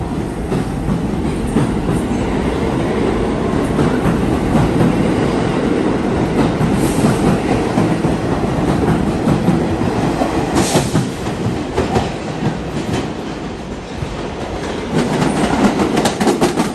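New York subway train running, a loud continuous rumble with clickety-clack of wheels over rail joints and brief squeals, steady and close from inside the car, no talking.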